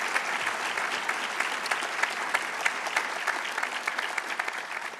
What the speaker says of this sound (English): if you could please join me in a round of applause